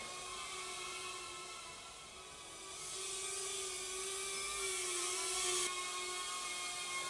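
A small GEPRC Darkstar 22 drone flies indoors with a high, buzzing propeller whine that shifts in pitch as it moves. The sound is steady, close and fairly loud throughout, and nobody speaks.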